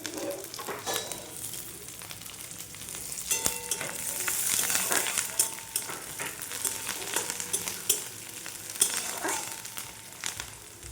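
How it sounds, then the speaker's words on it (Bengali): Curry leaves crackle and sizzle in hot oil over fried onions, a steady close frying hiss with scattered sharp pops and a few louder spits, no voices. "এবার কারি পাতাটা দিয়ে দেবো তেলের ওপরে।"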